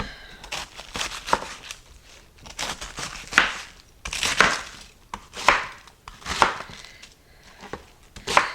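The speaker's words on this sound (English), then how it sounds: "I want to cut the cabbage in bite-sized pieces also." A knife chopping cabbage into bite-sized pieces on a board, with bursts of crisp, crunchy cuts in quick runs separated by short pauses, close and fairly loud, no talking.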